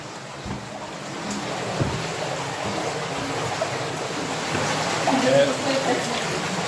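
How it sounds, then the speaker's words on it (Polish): Steady rushing water fills the space, a broad continuous roar of an underground river in Giant's Hole cave, with a faint voice under it. "Słychać bulgot wody gdzieś."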